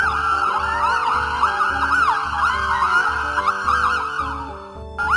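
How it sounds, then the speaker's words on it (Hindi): A police siren wails steadily and loudly in a rising-and-falling pattern, accompanied by a rhythmic low pulsing underneath. "तभी पुलिस की गाड़ी का सायरन की आवाज आने लगी"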